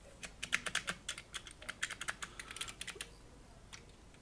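Keys pressed on the keyboard of a Soemtron ETR220 mechanical desktop calculator from the GDR, a quick run of crisp clacking presses in an uneven rhythm, close and fairly quiet, with no voices.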